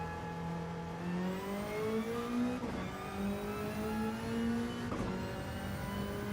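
A Toyota Supra engine in the racing game Gran Turismo 7 revs and climbs through the gears, pitch rising repeatedly with quick shift breaks, a steady loud in-game drone with no talking.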